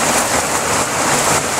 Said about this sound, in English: Now we're getting a downpour in Princeton